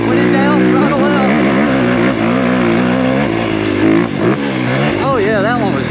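An off-road engine revs and wavers on the approach to a fourth-gear jump in the woods, a loud close drone rising and falling in pitch throughout, with a voice speaking over it.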